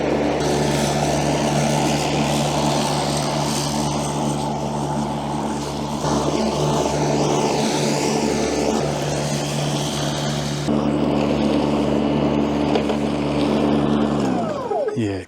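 A 3100-watt battery-powered lawn mower runs steadily with a constant electric motor drone and blade whir, loud and close, with talk over it and the motor spinning down at the end.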